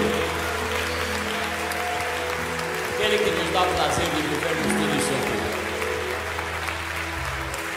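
Applause from a church congregation at a live worship service, sustained throughout under someone speaking Portuguese over the music, with a steady low instrumental drone beneath.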